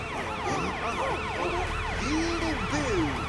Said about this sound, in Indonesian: Nyalakan lampu dan sirene